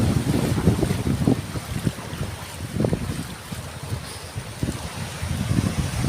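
Strong northeast monsoon wind on the coast of Burias, a continuous loud roar and gusty microphone buffeting with surf-like rumble beneath, no voices.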